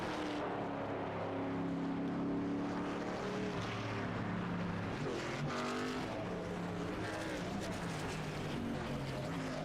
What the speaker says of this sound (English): We'll let him do his burnouts here front straight away